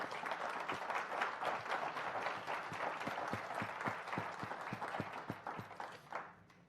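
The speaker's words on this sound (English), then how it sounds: "give a huge round of applause to the City of South Lake Tahoe" Audience in a room at the South Lake Tahoe State of the City address applauds, a dense roar of clapping with individual sharp claps standing out near the mic, fading at the end.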